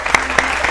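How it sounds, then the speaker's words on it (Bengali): Brief, loud burst of studio audience applause for a contestant on a family game show, dense and short. "স্নেহার জন্য জোরে হাততালি।"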